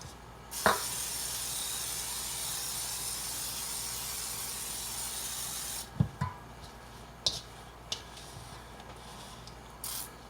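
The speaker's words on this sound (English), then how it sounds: "I'm going to spray the bowl with some kind of spray oil, your choice. I have a olive oil sprayer here" An olive oil sprayer hisses a long steady spray of oil into a bread bowl, followed by a few short clicks and bumps, close and fairly quiet.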